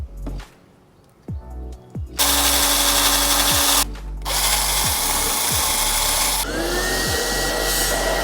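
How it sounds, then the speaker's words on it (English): A power drill cutting a pilot hole in a metal Ghostbusters Proton Pack shell, starting with a few short taps and then running in loud, sustained whines broken by brief pauses, heard close up with no talking. "Now that we have our main hole drilled to attach to the Proton Pack shell"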